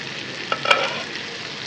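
Chicken kasha frying in a pan, a soft continuous sizzle with a few quick scraping stirs of a spatula in the middle, close and moderately loud.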